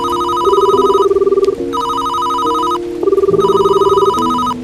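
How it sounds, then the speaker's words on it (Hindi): Several telephones ring together in an overlapping chorus of loud electronic trilling bells, bursts starting and stopping out of step, close and alone. "अगले ही पल सारे फोन एक साथ बज उठे।"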